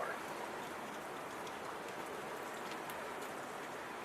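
Steady rain falls on a porch, a dense, even hiss of drops close to the microphone that holds level throughout with no voices.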